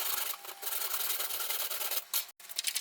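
Steady, close rasping and rubbing as 4mm plywood is trimmed to fit a catamaran bow, continuing almost without pause and breaking off briefly near the end.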